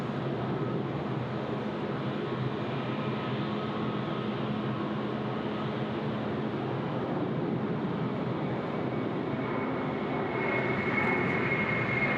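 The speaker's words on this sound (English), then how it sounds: "now we've got Qantas 643. It's rolling to Perth. It's the A330-200." A Qantas Airbus A330-200 takes off, its jet engines giving a broad, steady roar from a distance that builds slightly toward the end, with no voices over it.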